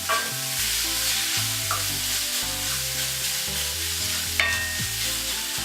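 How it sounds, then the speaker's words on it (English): Vegan nacho cheese heating in a pan gives a soft, continuous sizzle beneath prominent background music, with no talking. "So just let that heat up in a pan."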